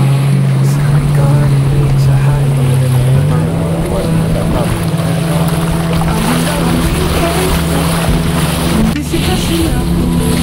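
A motorboat engine drones steadily through strong current and waves, with rushing water and wind noise throughout; loud and close, the engine pitch rising slightly partway through.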